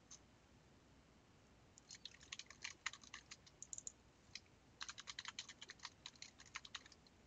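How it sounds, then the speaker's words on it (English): Rapid clicking keystrokes on a computer keyboard while someone codes a game, arriving in two close, busy bursts with a quiet pause between them and no talking. "My fingers are going to be so tired of typing that word"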